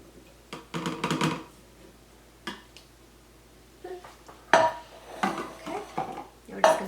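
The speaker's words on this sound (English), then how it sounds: "let's add in the rest of our chickpeas" Chickpeas being added to a blender or food processor for homemade Greek hummus, heard as a handful of close clattering and scraping knocks of food against a bowl and utensils, in irregular bursts.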